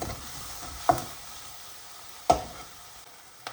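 Rock salt and ingredients sautéing in a pan for a quail egg dish, a soft steady sizzle broken by three sharp scraping stir strokes, close and alone.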